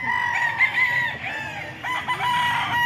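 A national banded rooster, about eight months old, crows close by in a long, strained call, followed by a second shorter crow amid other chickens.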